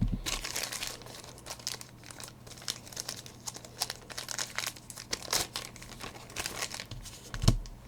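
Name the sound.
snipping open Star Wars Rivals game packaging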